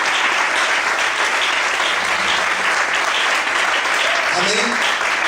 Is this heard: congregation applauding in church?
yes